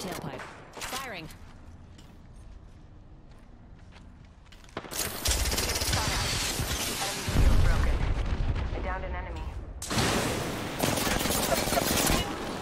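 Gunfire in the Apex Legends battle royale game: sustained automatic bursts and heavy booms after a quieter opening, loud and close, with a player's voice talking over parts of it.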